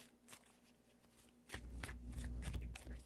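Tarot cards are shuffled by hand, soft riffling and slapping bursts that grow louder halfway through, close and quiet with no talking.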